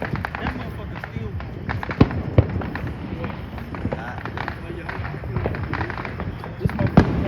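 Fireworks set off outdoors at a family gathering, with several sharp, loud bangs and pops, notably around the middle and near the end, over constant crackle and background noise while people talk nearby.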